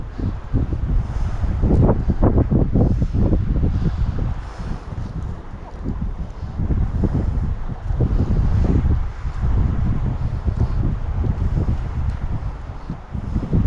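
Strong wind at Prasae Reservoir in Thailand on a fishing outing blusters steadily over the microphone, a loud rumbling roar that surges and eases throughout, with no voices.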